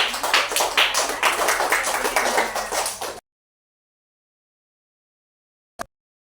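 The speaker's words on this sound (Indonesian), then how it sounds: "kasih tepuk tangan dulu buat kelompok pertama" Classroom applause from students for the first group, a dense burst of many hands clapping for about three seconds that stops abruptly, followed by silence and one sharp tap.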